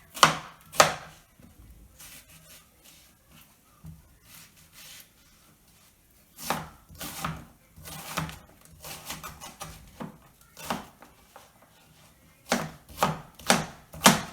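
A knife makes quick chopping cuts on a cutting board, with sharp close taps in short clustered bursts separated by quiet pauses across the stretch.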